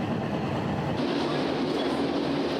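Passenger train running along the Douro River from Porto toward the Douro Valley wine region in Portugal, a steady rumbling interior ride with rhythmic wheel clatter and a constant hum, heard alone with no talk.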